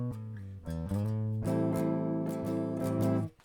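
An acoustic guitar plays a chord part, sliding between shapes and then strumming a sustained rhythm that rings on before stopping abruptly, close and clear with no voices.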